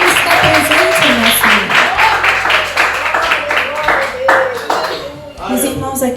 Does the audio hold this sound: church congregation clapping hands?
yes